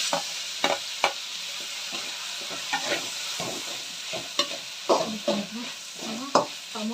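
Chopped tomatoes hit a hot pan for tomato gojju, setting off a steady close sizzle broken by scattered scraping clinks of a spoon stirring them in; no voices.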